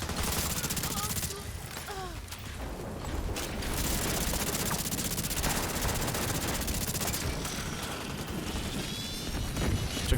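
The True Patriot weapon fires in The Division 2, a sustained stream of rapid automatic shots mixed with game effects, loud and continuous throughout.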